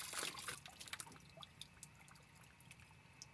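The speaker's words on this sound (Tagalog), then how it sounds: "Hugas pa uli para malinis po." A tanigue fish head is rinsed with water, with close splashing and pouring at first that settles into scattered drips and trickles.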